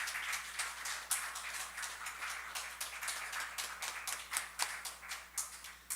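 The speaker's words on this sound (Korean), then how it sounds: "박수, 뜨겁게 박수" Congregation at a Korean Sunday church service applauding a member called to the front, a dense steady patter of many hands clapping close by, with no talk over it.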